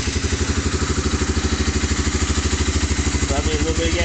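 A 1988 Honda Fourtrax TRX300 2x4 ATV engine runs close by with a rapid, even chugging pulse and mechanical clatter, loud and steady, with a brief voice near the end.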